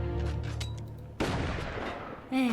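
Booming cannon and gunfire in the artillery battle game Forts, with a heavy burst at the start, a second sharp blast midway and another at the end, loud and close.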